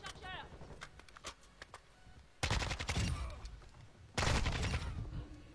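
Rapid bursts of gunfire from a Call of Duty Modern Warfare 2 match: scattered single shots early, then two loud sustained automatic volleys up close, with faint game sounds between them.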